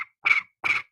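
A person imitates cricket chirps with the voice, giving three short, evenly spaced buzzy bleeps about half a second apart, close and fairly loud, with silence between them.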